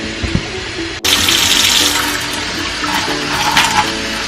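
Water gushes hard and steadily from a kitchen tap after it is abruptly turned on, a loud close rushing spray that continues throughout, with no talking.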